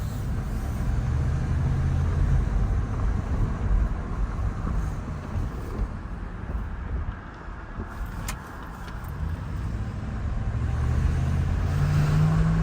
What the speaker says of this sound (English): This truck runs really good